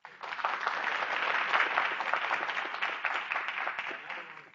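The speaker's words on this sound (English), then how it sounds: "I want to ask for thank you and round of applause for our panelists." A conference audience applauding panelists after an elections session, dense sustained clapping from a large room that swells and then tapers off over several seconds.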